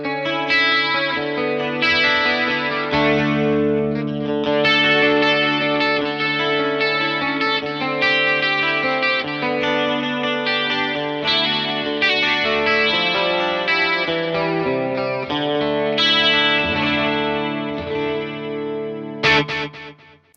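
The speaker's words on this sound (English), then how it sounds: "Next, chorus and delay and reverb." Electric guitar played through a Fender Mustang Micro headphone amp set to a combined chorus, delay and reverb effect, with sustained shimmering chords and arpeggiated notes ringing continuously and closely without any talking.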